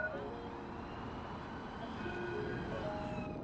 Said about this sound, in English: As I get on my last tram into town